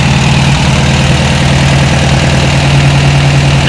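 Freshly rebuilt VW buggy engine running at idle, a loud, steady, slightly lumpy mechanical thrum with a strong low hum close by, no voices.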